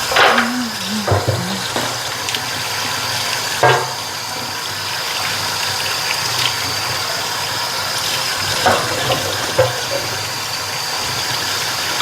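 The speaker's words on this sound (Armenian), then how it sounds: "Հոսող ջրի տակ լավ լվանում ենք։" Tap water runs steadily while madder root, used as a natural red dye for Easter eggs, is rinsed under it, a continuous close splashing rush with a few brief knocks and no speech.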